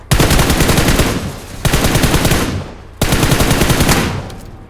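Gunfire in the mobile battle-royale game PUBG Mobile, three loud sustained bursts of rapid automatic shots, each fading slightly before the next, close and with no voices.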